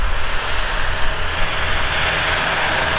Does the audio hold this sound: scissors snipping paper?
no